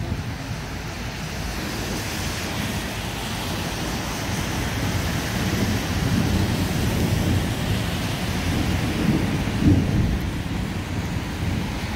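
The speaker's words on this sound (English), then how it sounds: "It's not raining hard enough." Steady rain hisses outdoors while low, rolling thunder rumbles beneath it, a dense continuous wash of noise with no voices.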